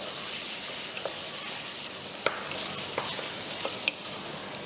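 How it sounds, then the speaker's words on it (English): Spoon stirring a concentrated sauce through seafood in a pan, soft steady scraping with light sizzle and a few sharp utensil clicks, close and alone. "then you stir well"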